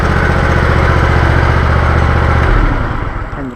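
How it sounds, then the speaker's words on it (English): A tractor engine chugs loudly nearby, then shuts off and winds down over the last second. "Turn the tractor off."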